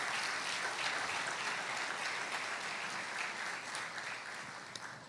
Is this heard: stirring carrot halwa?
no